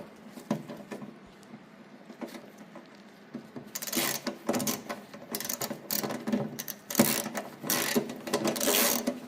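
Bolts being tightened on the drive carrier of a 25-year-old Ariens snowblower, with a series of close mechanical ratcheting clicks, sparse at first and then busier and louder, with no talking.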